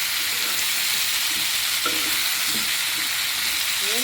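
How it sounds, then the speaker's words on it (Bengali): Vegetables fry in a pan alongside a tengra fish and pumpkin bori curry, with a loud, continuous sizzle and a few faint scrapes of stirring, close by and without speech. "একটু ভাজি করে নেব"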